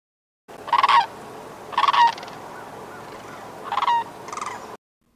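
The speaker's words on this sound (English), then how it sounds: "These birds of meadows and bogs have powerful, rattling bugle calls." A sandhill crane gives four powerful rattling bugle calls, spaced a second or two apart, trilled and resonant over a quiet outdoor background.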